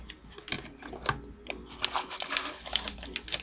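Crisp, close snipping and crinkling sounds as scissors cut open the side of a plastic bag of shikakai powder, a series of short cuts, quiet with no voices.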